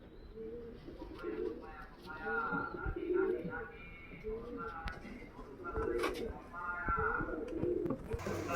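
Girebaaz pigeons coo close by in repeated low, throaty, rolling phrases that overlap one another in a steady stream of calls over several seconds.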